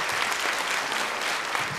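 Audience applause in a hall after a call for another round for two gentlemen on stage, a steady, dense wash of many hands clapping with no pauses throughout.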